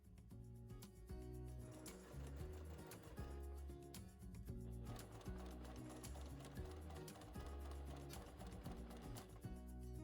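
A sewing machine stitches pom-pom trim onto a cushion cover, its needle running in a fast, steady mechanical clatter with a brief pause partway through, loud and close with no voices.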